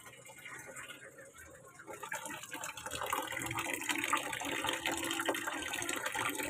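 Low-pressure water from a washing machine runs weakly into a container, a faint, continuous trickle and splash that grows slightly louder and fuller partway through.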